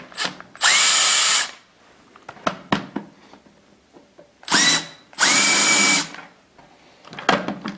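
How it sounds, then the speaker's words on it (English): A power drill whirs in short bursts removing screws from a chair, three main runs with clicks and clatter of screws and handling between them, close by. "you can use a power drill"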